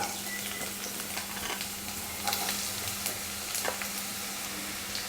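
Onions sizzling in hot oil for a bitter gourd and potato fry, a steady close crackle with scattered pops and spatters throughout.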